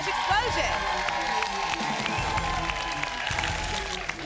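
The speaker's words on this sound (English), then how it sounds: "Cheer 'em on, Ohio." A game-show studio audience for a lottery draw cheers and applauds, with steady clapping and scattered whoops; a voice speaks over the applause.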